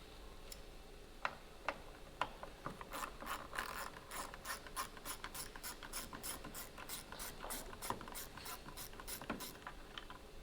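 A ratchet with a 10mm socket backs tail light screws out of a Lexus RCF, giving quiet, close clicking in quick, steady runs of ticks with brief pauses between strokes and no talk.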